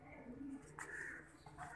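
Pigeons coo softly at a distance, a short low burble with faint chatter and other background sounds around them.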